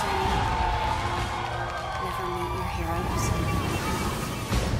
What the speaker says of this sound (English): they scream for anything